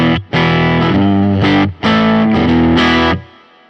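An electric guitar plays through a simulated Fender '65 Deluxe Reverb amp in Fender Studio Pro 8. Loud, driven chords ring out in a few sustained strums with brief gaps, the last one fading away.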